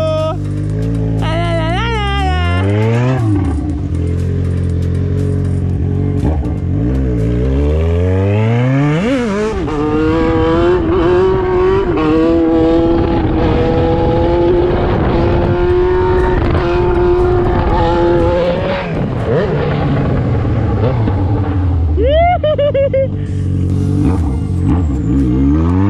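Yamaha XJ6 motorcycle engine revving hard and riding off, with rising and falling pitch sweeps through repeated gear changes, loud and close, and a brief voice near the start.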